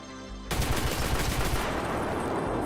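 A weapon in Escape From Tarkov empties a full magazine in one sustained burst of rapid automatic fire, loud and close, starting after a brief quiet moment and running to the end.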